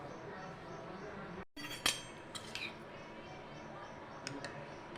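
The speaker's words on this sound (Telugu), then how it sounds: "దీంట్లోకి ఐస్ క్యూబ్స్ చల్లగా ఉండడానికి." Ice cubes dropping into a glass of homemade mango drink, a sharp clink followed by a few lighter scattered ticks and rattles over a quiet kitchen background.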